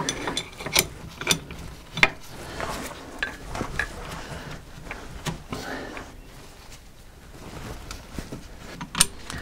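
Hand wrench working on a car's rear axle, giving irregular metallic clicks and ratcheting clinks, some sharp and close, over a quiet workshop background.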